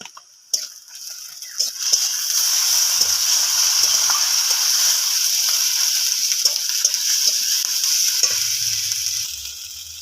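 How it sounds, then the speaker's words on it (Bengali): Ginger-garlic paste sizzling with fried onion in oil, a steady close frying hiss broken by light ticking strokes of a stirring spoon against the pan. "পেঁয়াজটা ভাজা হয়ে গেছে, আদা রসুন বাটাটা দিয়ে দেবো।"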